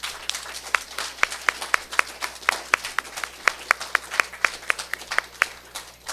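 A Unitarian Universalist congregation applauds during a morning service: sharp, evenly spaced claps repeat steadily throughout, moderately faint and with no talking over them.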